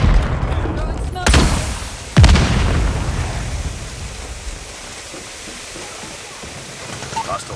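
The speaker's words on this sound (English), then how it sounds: "Throwing smoke." Smoke grenade in Call of Duty Mobile, two sharp loud bursts a second apart, followed by a long hissing wash of noise that fades, with brief voice lines.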